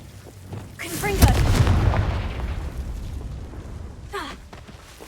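A Confringo fire spell bursts in Hogwarts Legacy, a single loud explosive boom with a rumbling tail that fades over a couple of seconds, followed later by a softer magical whoosh.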